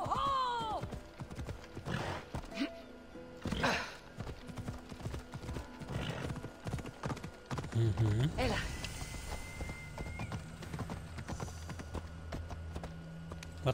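Rapid horse hoof clip-clops in the game Assassin's Creed Odyssey patter steadily throughout, with a horse whinnying and people talking over the galloping rhythm.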